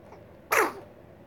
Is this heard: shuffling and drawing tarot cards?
no